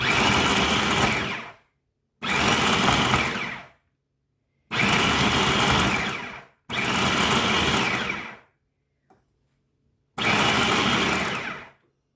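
Food processor pulsing chicken parm ingredients to a coarse grind: five loud whirring bursts of about one and a half to two seconds each, separated by short silences, close up with no talk.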